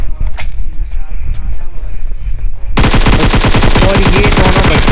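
Gunfire from a Groza rifle in the mobile battle-royale game BGMI: a few scattered shots give way around the 2.7-second mark to a loud, continuous rapid-fire automatic spray that runs to the end.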